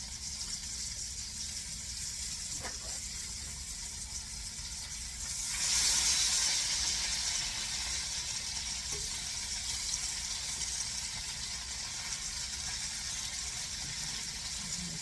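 Liver frying in a pan, a low steady sizzle and hiss that swells briefly louder midway, then settles back to a quiet constant fry.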